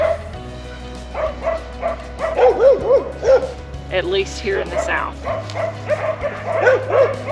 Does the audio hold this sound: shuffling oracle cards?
no